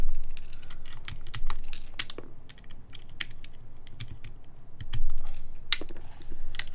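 Keycaps are pulled off a prototype SINGAKBD Jaguar v2 mechanical keyboard, producing a series of sharp plastic clicks and snaps at irregular intervals, close and fairly loud over a quiet background.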